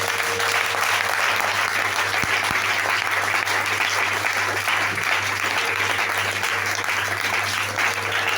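A church congregation applauds the Lord during a service, dense steady clapping that fills the room at an even level with a low hum beneath.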